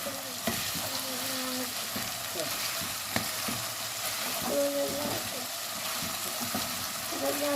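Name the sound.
chicken liver frying in oil, being stirred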